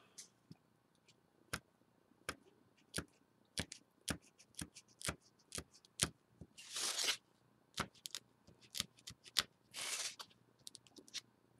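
An X-Acto knife cuts a notch out of a craft piece, giving sharp, brief clicks and scrapes in an irregular run, with a few longer rasping strokes, all close and fairly quiet.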